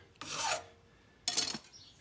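Two firm rasping strokes of a metal file along the edge of a lawn mower blade are heard up close. A short pause separates the two strokes.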